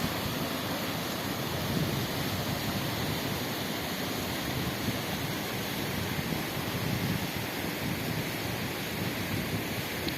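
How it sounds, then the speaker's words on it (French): Waterfall on a stream swollen by heavy rain in the Brocéliande forest, a dense, steady roar of rushing water that stays constant and fairly close throughout, with no voices. "La cascade est magnifique."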